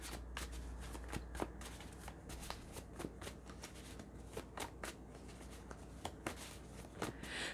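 A deck of oracle cards shuffled in a steady run of close, crisp riffling snaps and flutters, repeating for several seconds with no talk.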